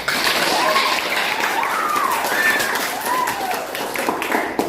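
Children clap together in a classroom, a dense, steady patter that lasts the whole stretch at an even loudness, with a few voices showing faintly beneath it.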